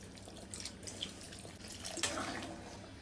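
Vinegar pouring into raw mango pickle in a home kitchen, a soft steady liquid trickle and splash at close range, fairly quiet throughout.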